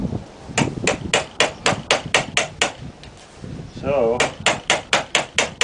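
Hand chisel struck into wood during restoration of a Cadillac DeVille, a quick series of sharp, close taps with a brief pause and a short spoken word partway through.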